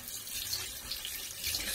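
Tap water runs steadily while Fluval FX2 canister filter media are squeezed and rinsed under the flow, a close, constant splashing hiss with no talk.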